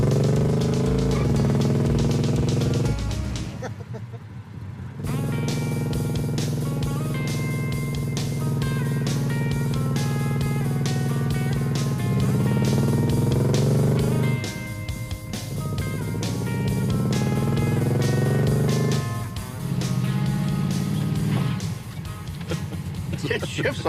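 A GT car's engine runs and pulls through gears from inside the cabin, a steady droning tone rising and falling with shifts, any lifter tick buried in the mix, with people talking over it.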